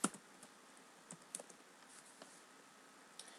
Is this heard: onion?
no